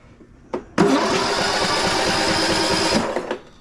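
A riding lawn mower, choked with the parking brake set and fuel on, cranks briefly, then catches and roars into a loud, steady run for about two seconds before cutting off.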